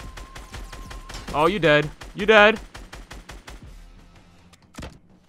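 Rapid gunshots from Fortnite: Battle Royale crack in quick bursts, sharp and close, with a talking player's voice breaking in over the firing and a final isolated shot near the end.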